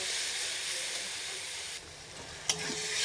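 Spice paste and chopped tomatoes frying in oil, giving a continuous close hiss and sizzle that eases partway through, with one sharp clink of the stirring spoon.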